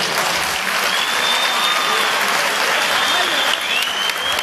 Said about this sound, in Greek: Ένα καλό χειροκρότημα εδώ από το χρονιάτικο.